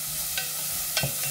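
Onion and garlic frying in a pan, a soft continuous sizzle broken by a few stirring scrapes, close and alone without talk.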